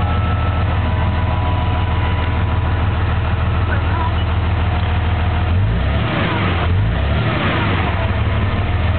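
The 5.9 Cummins diesel of a 2007 Ram idles after a cold start in cold weather. It gives a steady low rumble up close, with a brief rise and fall in engine pitch partway through.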